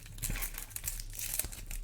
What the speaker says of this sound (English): you don't really need scissors to open these, which is good. You just kind of rip everything open.